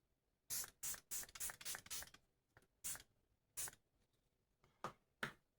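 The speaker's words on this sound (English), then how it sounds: "now I'm going to spray my face" Short hissing bursts of a face mist from Ulta, a rapid cluster of about six sprays followed by several more spaced puffs, close and crisp with no talking.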